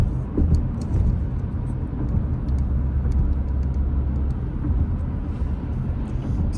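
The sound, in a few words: car driving across the Mackinac Bridge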